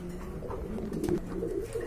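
A big-sized pair of Indian Bombai pigeons coo in low, throaty murmurs, close and continuous, over a faint background hum.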